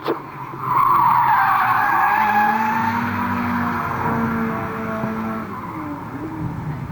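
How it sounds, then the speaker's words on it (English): A front-wheel-drive race car spins donuts at Fleet Raceway in 2006, its tyres letting out a loud, sustained squeal that slowly fades, with engine noise underneath. "Not quite the same donuts in the front wheel drive car,"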